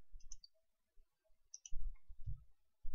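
Several crisp computer mouse clicks on an image link, coming as a couple of quick pairs with small gaps between them, close and fairly quiet, with faint low knocks from handling and no speech.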